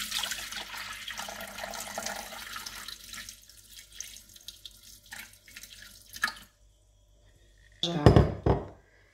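Water, about 350 ml, poured into a Thermomix TM5 bowl, a continuous splashing trickle that thins out, then a short louder splash and clunk near the end.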